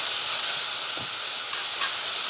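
Eggplant and chickpeas hit hot oil in a wok, giving a steady, loud sizzling hiss that holds evenly throughout with no talking.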